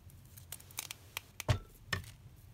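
Scissors snip through paper to trim a craft cluster, a few short, quiet cuts spaced out and heard alone.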